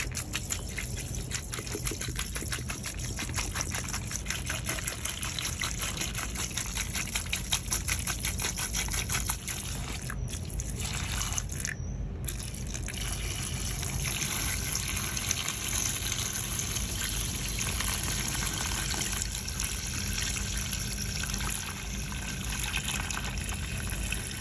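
Evapo-Rust liquid pours steadily from a container into a vessel at a warehouse estate sale, a continuous close gushing trickle with a brief pause partway through and no talk.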